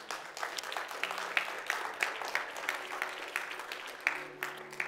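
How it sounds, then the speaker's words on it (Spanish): A church congregation breaks into applause during a worship service, a steady patter of many hands clapping at moderate distance, with a few brief tones sounding over it. "Un aplauso a nuestro Dios."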